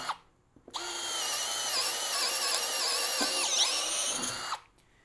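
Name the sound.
Greenworks 24V brushless drill with 1/2 inch titanium twist bit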